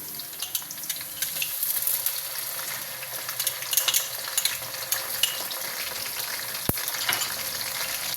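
Continuous sizzling and crackling of ginger-garlic paste frying with onions in hot oil, with occasional stirring scrapes, close and steady throughout.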